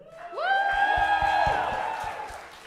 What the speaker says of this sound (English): audience, cheer if you think Maggie is better